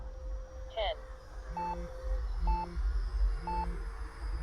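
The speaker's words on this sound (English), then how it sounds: "that timer thing beeping at you kind of puts you off" Electronic flight timer on an Arrows Viper RC plane beeping three times in a steady one-per-second rhythm, each a short two-tone chirp, heard over wind and a faint steady hum from the aircraft.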